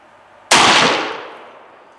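.308 Winchester rifle firing German plastic training ammunition: a single sharp, loud, close shot that cracks suddenly and then decays over about a second and a half.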